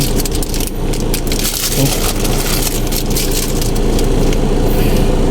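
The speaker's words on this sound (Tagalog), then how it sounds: "Napatak na naman ang rain." Steady rain patters and hisses on a surface nearby, with a low rumble of traffic underneath.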